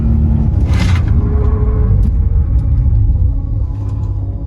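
A 2020 Ford Raptor with 500+ horsepower and upgraded Baer big brakes accelerates hard toward 50 mph for a brake test, its engine a loud, steady, deep rumble heard from inside the cabin.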